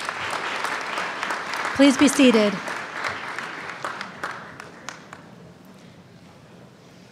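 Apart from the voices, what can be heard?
audience applauding a prayer at convocation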